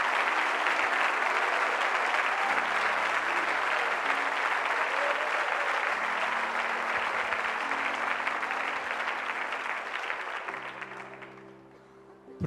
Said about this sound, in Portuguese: Aplauda ao Senhor se você crê de verdade